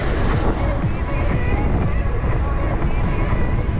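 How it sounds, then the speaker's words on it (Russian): Strong wind roars steadily across the microphone during a bike ride along a Crimean coastal road between Novy Svet, Sudak and Koktebel. The buffeting is loud, constant and low, with no talking. "Капец ветер."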